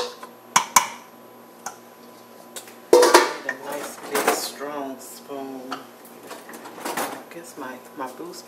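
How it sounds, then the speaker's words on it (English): Spoon scraping and clinking against a pot while mixing meatballs and sauce for spaghetti, a few sharp clanks then quieter scrapes, with someone talking over it. "And all we're going to do at this point is just mix it up. Just mix it real good."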